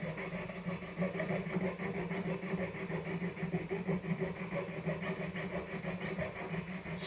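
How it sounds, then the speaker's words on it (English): A hand saw works steadily around a hollow form ring in metal jewelry making, cutting continuously with fast, even strokes that hold a constant loud level throughout. "So I'm just going to go all the way around and saw."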